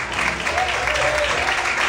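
Church congregation claps together during an evening service, a dense, loud wash of applause with some voices and cheers mixed in, sustained throughout.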